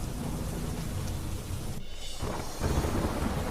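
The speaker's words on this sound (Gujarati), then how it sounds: "ઉત્તર પ્રદેશના દેવરિયામાં મેઘરાજાની જમાવટ ધોધમાર વરસાદ પડતા રસ્તા પર ફરી વળ્યા પાણી" Heavy monsoon downpour pounds down in Deoria, Uttar Pradesh, with thunder rolling through a dense, steady hiss of rain that swells louder near the end. No voices.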